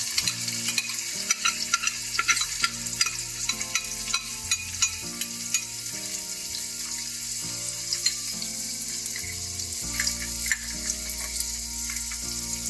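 Chopped onion frying in a pan of oil with a cinnamon stick, for a Kerala-style vegetable stew: a steady bright sizzle with occasional stirring scrapes, running under a continuous tonal musical bed.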